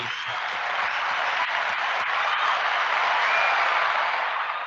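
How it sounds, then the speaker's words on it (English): A studio round of applause for a guest on a podcast, a bright, even burst of many hands clapping that holds steady for several seconds and stands alone without talk. "Round of applause for Jeremy, everybody."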